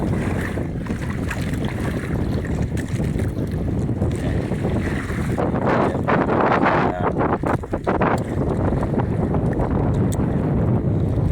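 Strong amihan northeast monsoon wind buffets an anchored fishing boat at sea off Lucky Beach, a constant loud rushing roar with gusts and water slapping the hull throughout, no voices heard.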